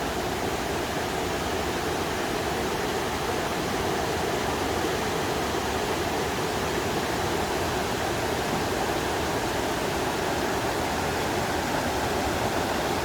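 A waterfall pours over rocks, a steady, dense rushing roar that holds unbroken and fairly loud throughout, with no voices over it.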